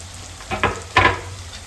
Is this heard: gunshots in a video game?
no